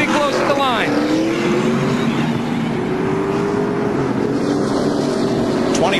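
NASCAR race cars in the 2002 UAW-DaimlerChrysler 400 accelerate off pit road under caution, a loud continuous roar of several engines with rising pitch sweeps, close and sustained, with commentary voices over it.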